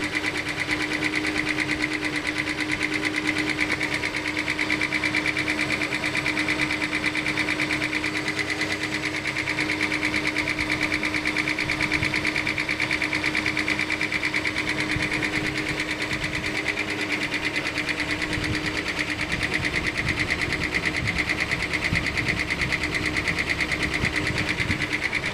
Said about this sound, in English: Sounds like driver side tappets are going at it.